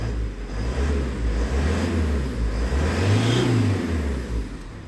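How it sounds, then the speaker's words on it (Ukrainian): A Ford Connect car engine idles steadily, then revs up and eases back down, close and continuous, with a turbo running. "Так, попробуємо погазувати трохи"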